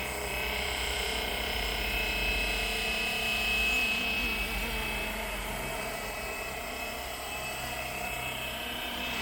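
A Flywing Bell 206 RC model helicopter in flight, a steady high-pitched whine of the motor and rotor, close and continuous, rising slightly in the middle before settling.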